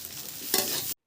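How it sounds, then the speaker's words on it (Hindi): Potatoes fry in a little oil in a hot wok over an open fire, a close, steady sizzle with a brief louder stirring burst before cutting off abruptly. "कढ़ाई जब गर्म हो गए तो उसमें थोड़ी सी तेल रख के आलू को हम भूनेंगे।"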